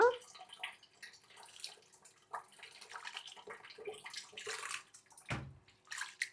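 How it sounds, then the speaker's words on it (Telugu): Water swishes and splashes as old rice is swirled and rinsed in a bowl until the water runs clear, with drips and a pour. "తెల్లటి నీళ్ళు వచ్చేదాకా కడిగేసుకొని నానబెట్టుకోవాలి"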